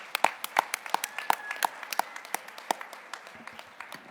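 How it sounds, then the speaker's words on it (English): Sparse, scattered clapping from a small audience after a keynote talk on the opioid crisis, individual sharp claps spaced irregularly, fairly faint in a quiet room. "Let's give him another round of applause."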